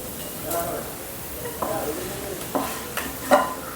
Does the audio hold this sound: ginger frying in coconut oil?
yes